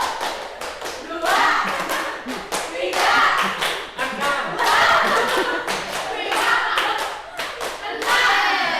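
A classroom group claps hands in a counted rhythm, loud and close, with a teacher's voice calling the counts between bursts of sharp claps.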